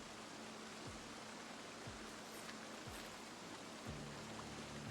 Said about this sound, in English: Doesn't seem like it's gonna stop raining.